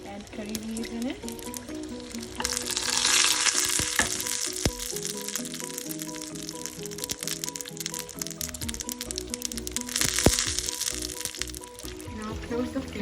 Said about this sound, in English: Add curry leaves in it.